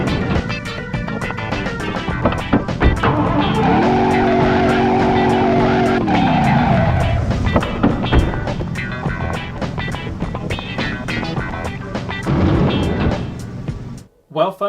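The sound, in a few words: car driven in a video game mission (Jericho)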